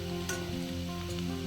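Chopped greens and onions frying in a pan, a steady close sizzle with a couple of faint stirring scrapes over a short moment.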